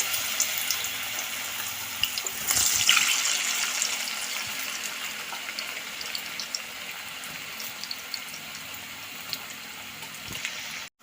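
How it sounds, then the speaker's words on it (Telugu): Potato pieces for homemade french fries deep fry in hot oil, a constant rushing, bubbling sizzle that swells louder after the first couple of seconds and then holds steady, with no voices. "ఆయిల్ హీట్ అయిపోయింది మనం ఇందులోన ఈ పీసెస్ వేసుకుందాం"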